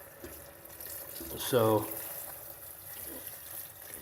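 Water pours into a medieval stew pot already holding red wine, a running splash-like wash under a brief spoken word partway through.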